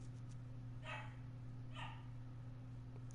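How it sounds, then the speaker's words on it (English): An indoor dog gives two separate barks about a second apart, moderately close, over a constant low electrical hum, and no one speaks. "I do apologize for the dog."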